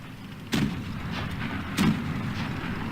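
Two heavy tank cannon shots in World of Tanks Blitz, a medium tank battle, each a sharp boom about a second apart over steady game ambience, with no talk.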